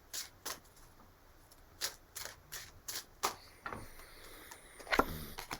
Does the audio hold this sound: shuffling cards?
yes